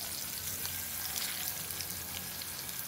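Egg-coated fish fries in a pan, a soft, even sizzle with faint crackling pops running steadily throughout, fairly quiet and without speech.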